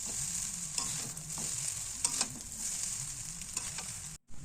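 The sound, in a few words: chow mein frying and being stirred in a pan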